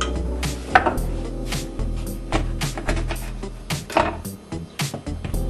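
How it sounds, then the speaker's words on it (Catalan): A lemon being cut with a knife in a kitchen while making a red lemonade, with irregular clattering knocks and scrapes of blade and board, close and moderately loud, with no talk. "tallem una llimona"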